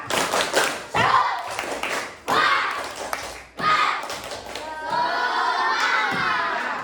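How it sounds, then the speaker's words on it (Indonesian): A classroom of children doing a rhythmic spirit clap during an Islamic studies lesson, bursts of patterned clapping broken by short pauses, with shouting and chanting voices mixed in. "Ya, baik, tepuk semangat."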